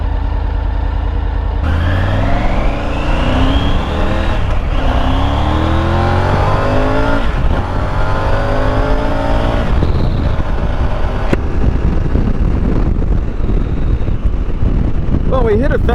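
A Triumph Tiger 850 Sport motorcycle is ridden at speed, its engine note climbing repeatedly through the gears over steady, loud wind rush close to the microphone.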